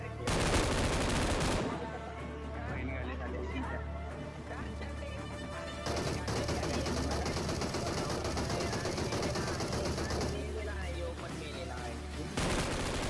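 Gunfire in a shooting video game, dense rapid shots and bursts running almost continuously under game music and effects, loud and close throughout.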